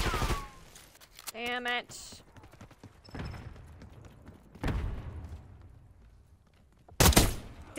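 Scattered bursts of gunfire from a Call of Duty Black Ops 6 match, a few sharp, loud shots spaced several seconds apart, with a player talking briefly between them.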